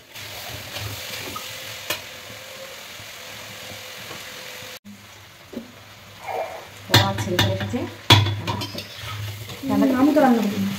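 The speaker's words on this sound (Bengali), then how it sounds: "এই তো এবার ধরো ভালো করে কষাতে থাকি সবজিটা।" Vegetables seasoned with salt, turmeric and radhuni spice are stir-fried in a pan after a quiet, humming start. Scraping stirs and sizzling bursts build up in the second half, close and loud, with faint background noise.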